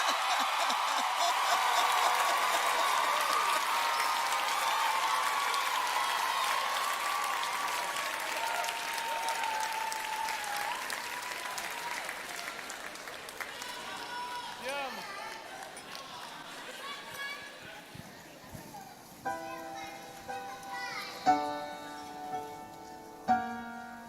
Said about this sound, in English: As Gabriel prepares to sing, let's also give him a round of applause because he's getting married on Thursday